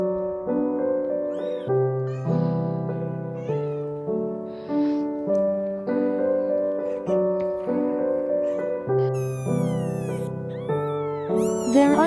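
Six-day-old kittens meow repeatedly, thin high cries overlapping in a steady rhythm over a sustained tonal musical backing, close and clear.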